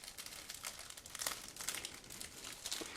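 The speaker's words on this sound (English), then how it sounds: "Okay, so this is a sealed plastic bag. I'm going to tear it open." A sealed plastic bag is torn open and handled up close, giving a continuous run of crinkling and crackling with sharper rips at intervals, quiet but clear, with no voice.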